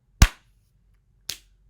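Two white gloves clapping in a told story, rendered as two sharp, isolated claps about a second apart, the first louder than the second, with silence around them.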